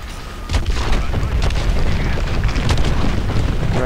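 Bombing explosions in Call of Duty Advanced Warfare boom loudly and continuously, a dense rumbling barrage that kicks in after a brief quiet start and keeps up throughout.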